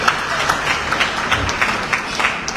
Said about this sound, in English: Can we give another round of applause for the president of the press union?